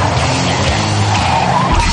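An Opel Manta drives hard with its tires squealing loudly. Engine roar and skidding noise run continuously, close and loud, with no talk.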